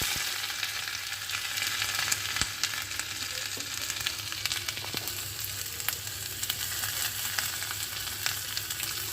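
Cumin seeds and ginger sizzle in hot oil for a khichuri, a steady close frying crackle with occasional sharper pops throughout, no talking.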